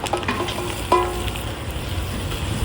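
Onion sizzles steadily in hot oil with chilli and curry leaves in a catering kitchen tempering, a close, continuous crackling fry with a brief stirring scrape.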